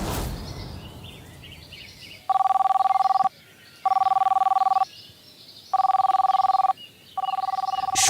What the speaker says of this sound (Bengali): সুপ্রিয়া ম্যাডাম ফোন করেছে